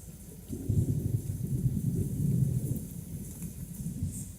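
Low, rolling rumble of thunder from a lightning strike, a steady dull roar swelling and fading with faint rain-like hiss, fairly quiet and distant, no voices.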